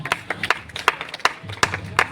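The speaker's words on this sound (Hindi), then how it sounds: "सुषमा कुमारी के लिए जोरदार ताली हो जाए" A school prize-giving audience at an Independence Day programme claps for a girl who placed first in a maths test, a short burst of scattered, uneven hand claps close by, with no talk over it.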